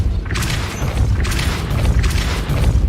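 Depulso spell cast in Hogwarts Legacy: a loud, continuous booming rush of magical force with crashing, mechanical layers, several swelling bursts across a few seconds, with no talk.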